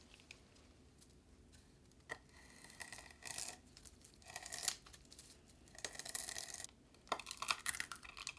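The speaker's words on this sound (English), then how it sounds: "Cut the laver." Laver, nori seaweed, cut in a kitchen while preparing a teriyaki-mayonnaise chicken bowl, crisp crackling snips and tearing crunches arriving in irregular bursts over a quiet background, close and with no voices.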